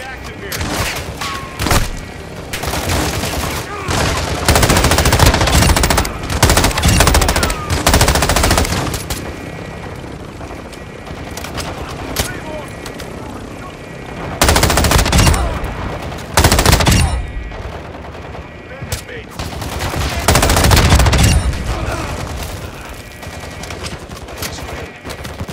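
Bursts of automatic fire from a new gun in Call of Duty: Modern Warfare II ring out in loud, repeated volleys with short gaps between them, and voices talk in between.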